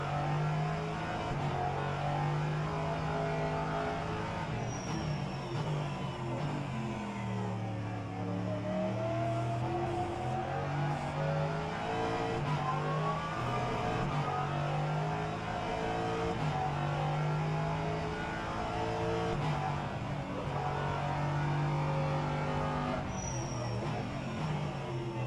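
GSR LMP3 race car engines at Daytona in rFactor 2, a sustained droning engine note with rising and falling revs and gear changes, steady and continuous for the whole stretch, no talk.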